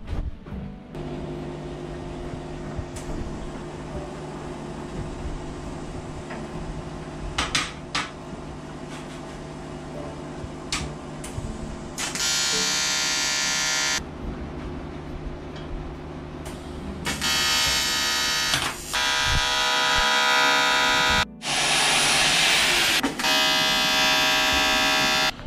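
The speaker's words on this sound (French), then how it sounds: "Soudure à l'argon." Aluminium is argon welded amid a steady electrical hum, with long, loud bursts of harsh crackling buzz from the arc that start and stop several times, the later bursts running nearly back to back.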